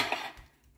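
A utensil stirs black bean and lentil chili in a pot, a brief close scrape and clink that quickly fades.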